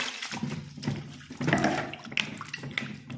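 Water splashes and sloshes as taro roots are rinsed in a container, with uneven pours and swishes close by.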